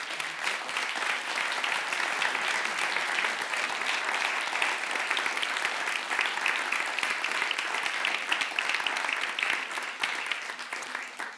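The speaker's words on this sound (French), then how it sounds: "Je crois qu'on peut applaudir." Sustained, dense applause from an audience after a documentary screening about mRNA, a steady, even wash of clapping that holds at full strength for the whole stretch with no talk over it.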